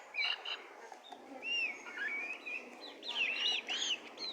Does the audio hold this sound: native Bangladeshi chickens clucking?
yes